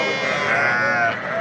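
Sheep bleat steadily at a busy livestock market, a continuous layered chorus of nearby animals with bazaar murmur underneath.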